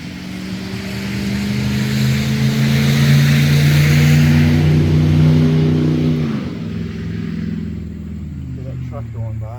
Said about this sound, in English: Truck going by, nice and loud.